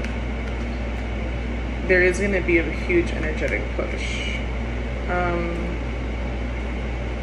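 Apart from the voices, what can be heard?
electric fan running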